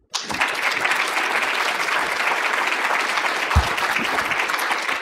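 An audience applauds to welcome Chairman McWilliams onto the stage, the dense clapping starting abruptly and holding steady and fairly loud for several seconds.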